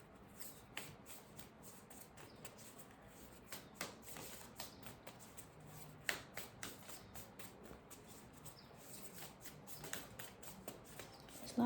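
Starseed Oracle cards are shuffled and pulled, giving soft, quiet riffling and light taps that repeat steadily in a faint, close, continuous patter.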